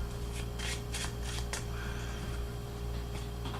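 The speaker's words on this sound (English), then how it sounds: "Shuffle the deck real quick" A deck of playing cards being shuffled during a trading card game combo demonstration, quick riffling bursts in the first two seconds followed by softer shuffling, close and fairly quiet over a steady background hum.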